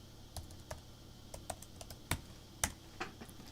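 Keys tapping on a computer keyboard as a search term is entered on an auction website, a quiet, irregular run of soft clicks with a few sharper strokes.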